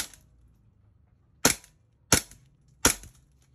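Semi-automatic shots from a WE G18c Gen4 gas blowback airsoft pistol: three sharp, loud cracks with snappy slide action, spaced unevenly about a second apart after a short lull, with no talk.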